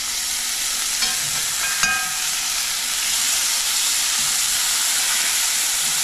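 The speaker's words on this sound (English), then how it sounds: "Let me flip this right here, real quick. Y'all come on here. We'll flip this sausage." Sausage sizzles steadily in a frying pan for an old-fashioned supper, a constant bright crackling hiss with a brief clatter of a flip partway through.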